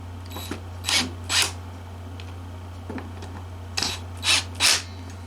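Screwdriver tightening screws on a 1964 Fender Stratocaster guitar: a few soft ratcheting clicks and ticks come in two short clusters, close and quiet over a steady low electrical hum.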